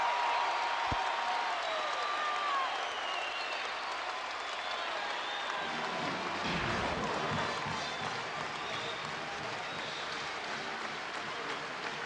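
Basketball arena crowd roaring and applauding during an Iowa State versus Iowa college game in 2004, a sustained loud wash of cheering that stays steady throughout, with a brief rumbling thump partway through.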